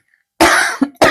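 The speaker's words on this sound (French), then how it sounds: "c'est pas agréable d'entendre tousser" A person coughs in a burst of several harsh coughs up close, followed by a short catch and one more loud cough, with silence before.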